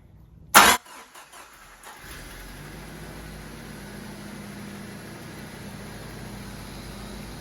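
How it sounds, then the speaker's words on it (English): A 1994 Jeep YJ with the 2.5 engine, fitted with a new air intake, cranks with a sharp loud burst, then settles into a steady low idle that continues to the end. "Now let's start the engine."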